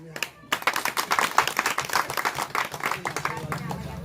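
Applause at an SP and SBSP political rally on a village ground: a dense burst of clapping from a crowd, steady and loud for several seconds before tapering, with a voice under it.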